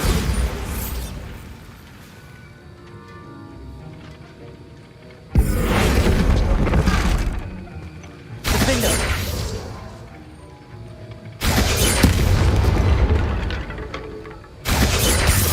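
Bombarda blasting-spell explosions from Hogwarts Legacy erupt as three or four long, loud roaring crashes with shattering debris, each lasting a couple of seconds, separated by quieter stretches of ambient game sound and faint voices.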